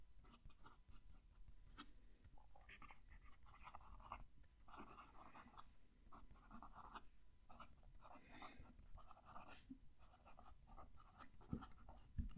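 A Lamy fountain pen nib scratching across paper up close, short strokes with faint pauses between them, quiet and steady, ending with a couple of light knocks.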